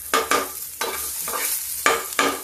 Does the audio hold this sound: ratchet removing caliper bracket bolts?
no